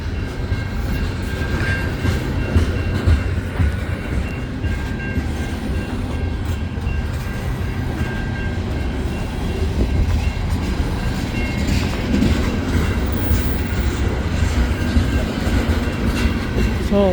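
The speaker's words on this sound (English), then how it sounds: "I just got this train here at about 9 o'clock p.m. at this crossing in Saint Laurent." A CN eastbound freight train of tanker cars rolls steadily past a pedestrian crossing in Saint Laurent at night, a loud continuous rumble with rhythmic wheel clatter and metallic squeal, close by throughout.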